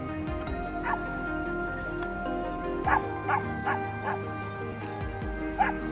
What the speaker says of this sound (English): the hound's barking snapped Kevin's attention.